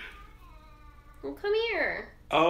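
A pet cat meows indoors, first a thin drawn-out cry, then two louder, rising-and-falling meows close to the microphone, with a person briefly speaking to it between calls.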